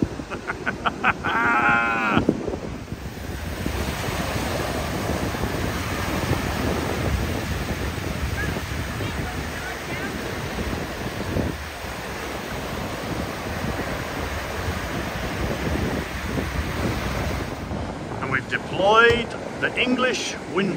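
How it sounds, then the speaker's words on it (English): Wind blowing at the coast near Fort Stevens, Oregon, a steady broadband rush and buffeting against the microphone for most of the clip, with brief voices at the start and end. "because the wind is coming from north to south which means it's on the other side of this windbreaker and it does help"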